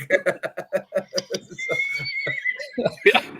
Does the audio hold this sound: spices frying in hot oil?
no